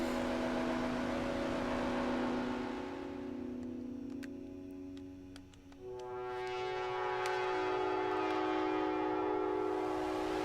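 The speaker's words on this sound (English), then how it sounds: "There's our distortion." A synthesizer played from a PS3 controller, run through a distortion effect, holds loud sustained buzzing tones that shift pitch, thin out briefly and then swell back, with no voices.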